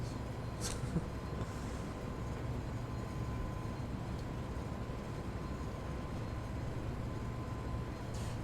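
Freight train in the Train Sim World 2 game running on level track, a steady low rumbling drone from the locomotive with even, continuous rolling noise and no talk over it.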